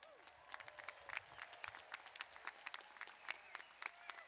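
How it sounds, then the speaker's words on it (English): Commencement audience at a College of Engineering ceremony applauding alumni, scattered individual claps ringing out fairly distinctly across a large hall, moderately faint and uneven, with crowd murmur beneath. "let's give them a big round of applause"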